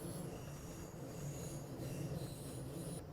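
An ICE-1 train with power cars at each end rolls through Frankfurt Hbf in Train Sim World 6, steady wheel rumble and high squeal over dense trackwork, loud and continuous with no talking.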